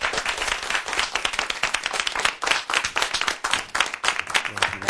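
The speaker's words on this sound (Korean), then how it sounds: "큰 박수로 맞아주시기 바랍니다" A studio audience at a Korean leadership lecture welcomes the speaker with brisk, dense clapping, steady and fairly close throughout.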